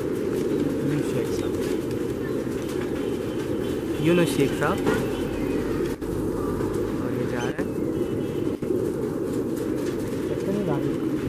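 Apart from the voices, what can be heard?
racing pigeons cooing and flying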